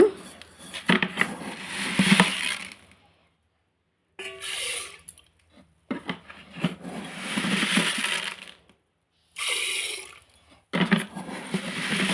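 Water splashes into a bowl to soak dal (lentils) in a home kitchen, coming in several bursts with gaps of silence between them, some softer dripping and clinking mixed in, close and moderately loud.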